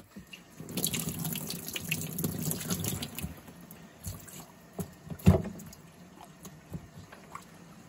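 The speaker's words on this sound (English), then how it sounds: "Rinse this out one more time." Tap water runs into a sink as a shop vac part is rinsed out, a soft steady splash up close for the first few seconds, then scattered drips and clunks of handling.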